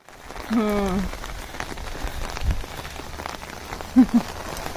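Rain falls steadily on an open terrace among potted plants, a constant patter throughout, with a couple of brief thumps and a short voice near the start.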